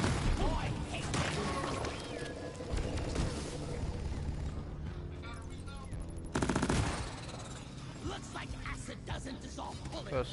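Video game gunfire comes in rapid automatic bursts and single shots, loud and close, with a person talking excitedly over parts of it.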